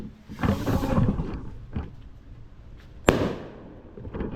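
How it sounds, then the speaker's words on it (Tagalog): Fireworks being test-fired outdoors: a rushing burst, a smaller pop, then a sharp loud bang that fades away. "Ayan, so, nagte-testing na kami ng fireworks."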